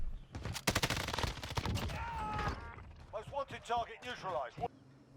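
Rapid automatic gunfire in a Warzone video game gunfight crackles in quick bursts for about two seconds, then someone talks over scattered quieter game sounds.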